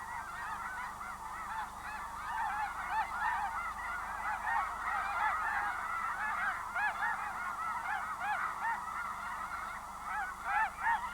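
Dense chorus of honking geese on a wildlife refuge, countless overlapping calls from a big flock, steady and moderately distant throughout.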